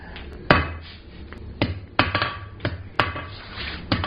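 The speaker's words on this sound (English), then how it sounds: "I'm going to be working on a step of the anvil here using the flat side of my hammer" Hammer striking hot metal on an anvil while drawing out a taper for a ball-end coat and hat hook, sharp ringing blows at an irregular pace, about seven strikes, close and fairly loud with no talk.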